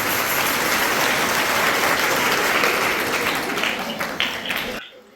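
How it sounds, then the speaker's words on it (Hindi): Loud applause from a Christian congregation at a Christmas service, thick continuous clapping that swells, then fades with a few last claps before stopping abruptly. "जोरदार तालियां, जोरदार तालियां।"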